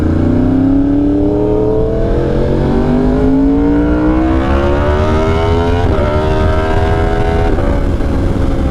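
A crossplane Yamaha R1 motorcycle fitted with an SC Project CR-T exhaust revs up hard and loud, its rising engine tone climbing steadily through the gears with a sharp bang near the end, close and continuous.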